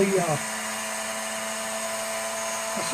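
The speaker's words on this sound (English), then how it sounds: "I just take the little cut-off saw and I saw" A small cut-off saw cutting a 223/556 brass cartridge case, a steady high mechanical whine that holds evenly for a few seconds after a brief louder start, close and alone.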